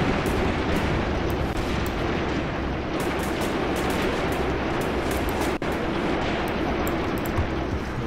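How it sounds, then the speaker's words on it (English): Bombs from an Il-2 air attack in the video game Graviteam Tactics, a dense sustained rumbling roar of explosions and battle noise with sharp cracks scattered throughout, loud and continuous. "It's the incoming fire from the Il-2. Oh, here we go, bombs, guys"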